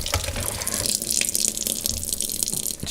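Tap water gushes steadily into a filter as ingredients for banga soup are rinsed, a close, loud splashing stream with sharper spatters and brief shifts in the flow, no talk over it.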